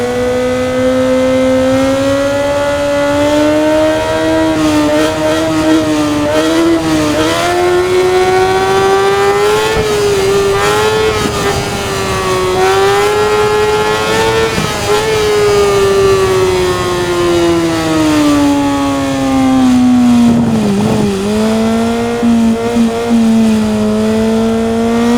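A 2020 Suzuki GSX-R1000 with its 999 cc engine in the RIDE racing game, a loud, steady, high-pitched motorcycle engine whine that holds at high revs, rising and falling gently, dipping once briefly before climbing again.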